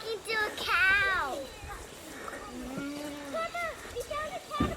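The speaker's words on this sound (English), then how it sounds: "I was talking to a cow." A cow lowing on a farm with young calves nearby, a drawn-out moo rising and falling, followed by softer calls as people talk close by.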